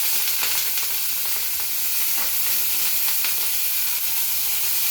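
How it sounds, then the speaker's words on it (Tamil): Cleaned pirandai (adamant creeper) frying in hot oil in a heated pan, a loud, steady sizzle and hiss throughout with occasional sharper crackles and spits, heard alone without talk. "இப்போ நம்ம இந்த பிரண்டை எடுத்து க்ளீன் பண்ணி வச்சுருக்கதை எடுத்து போட போகிறோம்"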